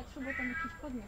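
A single cat meow with a thin, slightly tinny quality, short and rising then falling, heard up close against a quiet background.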